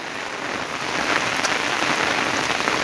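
Steady heavy rainfall hisses close by, a dense continuous wash of drops on surfaces that grows slightly louder, with no voices.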